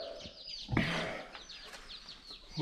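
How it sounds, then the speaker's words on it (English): Baby chicks peep close by in a brooder, a steady stream of thin, high, repeated chirps with one louder flutter or cluck partway through. "we finally got our chicks"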